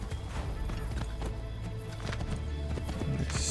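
Horse hooves clip-clop steadily in Assassin's Creed III Remastered, a continuous loud game soundscape with a brief neigh mixed in under the rumble of the scene.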